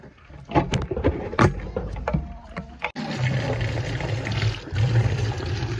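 Scattered clicks and knocks from a coin-operated water filter dispenser taking a 5-rupee coin are followed by a steady stream of water pouring out, continuous and fairly close, swelling slightly toward the end.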